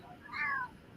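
A cat gives a single short meow, faint and fairly close, against quiet background noise.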